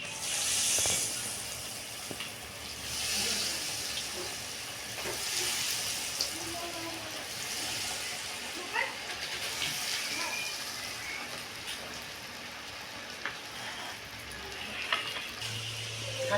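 Food frying in hot oil until it turns deep red-brown: a steady, hissing sizzle that continues the whole time at moderate loudness, with a voice talking over it now and then.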